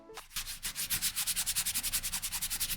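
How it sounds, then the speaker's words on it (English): Fingertips rub over the sandy, brushed coating of a Foamposite sneaker right by the microphone, a quick steady series of soft gritty scratching strokes, close and alone. "I'm gonna touch this by the microphone, and maybe when you hear it that way"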